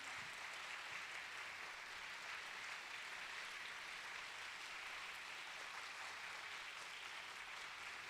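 Applause from a ceremony audience after a dance school performance at a university film awards event, a faint, distant, uniform wash of clapping held steady throughout without distinct individual claps.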